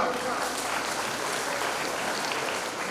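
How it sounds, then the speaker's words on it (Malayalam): Audience clapping at a 2024 school entry festival, a steady, dense wash of many hands applauding together for the full stretch, fairly loud and even, with no voices standing out. "നമുക്ക് നല്ല ഒരു കൈയടി കൊടുക്കാം"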